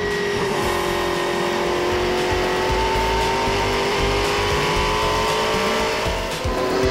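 Group C sports prototypes such as Porsche 962s race at the Spa-Classic on the Spa-Francorchamps circuit, engines roaring loudly and continuously with rising and falling pitch as cars accelerate and pass nearby.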